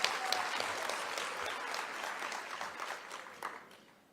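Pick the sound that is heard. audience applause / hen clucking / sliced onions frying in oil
audience applause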